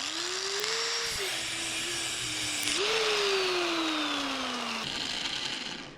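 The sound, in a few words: angle grinder cutting threaded quick shifter rod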